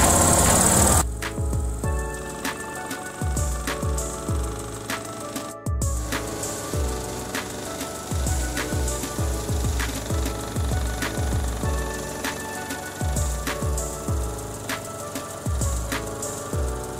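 BLDC electric motor spinning at 1500 RPM, a steady rhythmic mechanical pulsing with a constant tonal whine, running evenly and close throughout.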